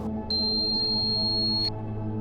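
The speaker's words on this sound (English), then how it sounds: "focus on the high ringing noise, which in Taoism is called the high-pitched sound or the universal sound" A steady high-pitched ringing tone, the Taoist universal sound, holds alone at one pitch for about a second and a half over a faint low hum, starting and stopping abruptly.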